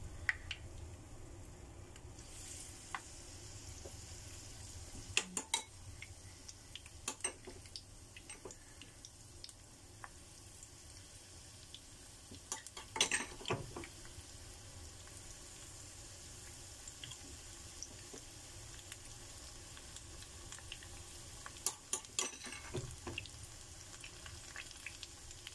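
Soft, steady sizzling of oil frying corn fritters in a pan, with occasional clinks and taps of utensils over the low crackle.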